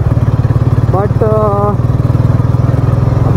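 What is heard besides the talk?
motorcycle riding on road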